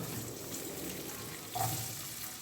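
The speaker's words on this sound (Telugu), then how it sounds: "ఎండు ద్రాక్ష కూడా వేసి బాగా దోరగా వేయించి పక్కన ఉంచుకోవాలి" Raisins and cashews frying in a pan for jaggery rice prasadam, a soft steady sizzle throughout with a brief louder crackle near the end, no voices.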